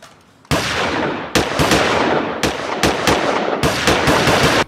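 Loud, continuous bursts of automatic gunfire in a police comedy sketch, several sustained volleys separated by brief breaks, with no voices over them.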